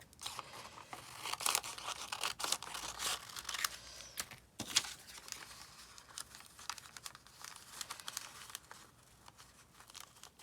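Scissors snip through paper journal pads, cutting them in half, with crisp irregular cuts and some crinkling and rustling of the paper nearby, and no voices.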